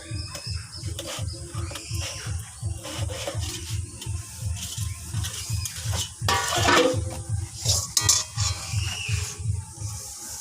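Two kadai cooking pans being washed by hand, steady rhythmic scrubbing and rubbing with occasional clinks and water splashes, close and moderately quiet, birds faint in the background.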